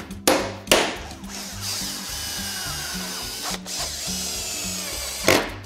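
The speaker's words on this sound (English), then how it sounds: "As you can see, it cuts as it screws." A power driver turns a self-tapping screw into metal, cutting as it goes, with a steady whirring grind broken by a few sharp clicks and knocks, close and alone.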